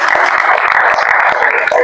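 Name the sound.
applause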